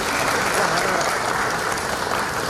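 Hall audience clapping loudly to welcome a chief minister at a government development event in Minto Hall, a dense continuous roar of applause.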